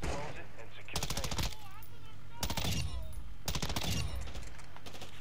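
Three bursts of rapid automatic gunfire in Call of Duty DMZ, each about half a second long, spaced evenly across the clip with quieter game ambience between them.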